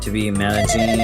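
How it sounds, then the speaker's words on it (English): A phone rings with a bright melodic ringtone of layered tones, heard close and loud while a person talks over it. "That was my phone for some reason."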